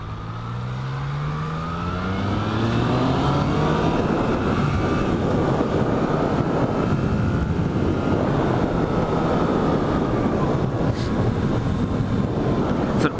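Yamaha MT-09 motorcycle accelerating hard, its engine note climbing through the gears while steady, heavy wind rush buffets the microphone throughout.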